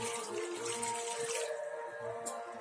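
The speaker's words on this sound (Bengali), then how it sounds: "কড়াতে একটু জল দিয়ে দিচ্ছি।" Water runs and splashes into a cooking pan (kadai) set on the stove for fish head with pui saag, a steady close pouring and trickling wash that carries on without talk.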